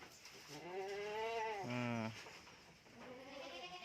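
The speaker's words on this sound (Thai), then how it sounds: "แวะมาดู แพะที่บ้านนะครับผม แล้วก็ วัวนะครับ" Goats bleat at a home farm where cattle are also kept, one quavering wavering call followed by a lower, louder bleat and a fainter third cry, close by with quiet background noise.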